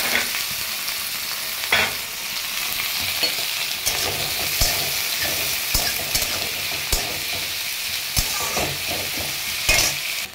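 Chopped garlic and green chillies fry in hot oil in a pan, giving a loud, steady sizzle broken by occasional sharp scrapes and taps from stirring, with no voices.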